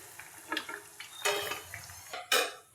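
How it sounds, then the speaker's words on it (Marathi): Potato bhaji frying in oil, heard as soft sizzles broken by clanks of a ladle and utensil knocks against a pan, a few sharp metallic bursts standing out with no speech. "अशाच रीतीने मी भजी तळून घेणार आहे सर्व।"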